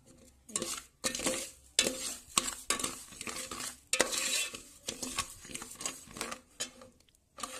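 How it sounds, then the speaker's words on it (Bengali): Gobindobhog rice being stirred in ghee in a metal pot for payesh, a steady run of scraping, clinking spoon strokes against the pan with a light sizzle, close and fairly loud, no talking. "গোবিন্দভোগ চাল ঘিয়ের মধ্যে একটু নেড়ে নিচ্ছি"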